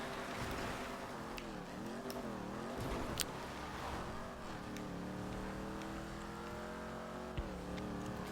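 Car engine droning steadily in GTA 5, its pitch rising and falling as the vehicle speeds up and eases off, with a few brief sharp clicks or impacts along the way.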